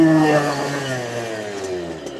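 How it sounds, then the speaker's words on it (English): A motorcycle engine winding out while the back tire spins up without traction, a close whining rev that starts loud and slowly slides lower in pitch and fades. "It's just spinning up that back tire."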